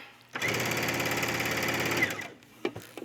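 A sewing machine stitches a gathered collar onto a top in one steady, loud run of close, even stitching lasting about two seconds. It stops abruptly and a few soft handling clicks follow.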